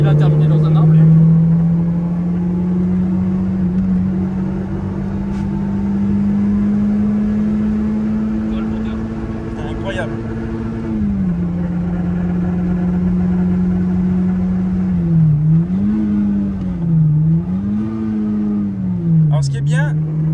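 A Peugeot 106 Rallye cruising at about 70 km/h, its engine giving a steady droning hum heard from inside the car, pitch shifting slightly with throttle changes, while people talk over it throughout.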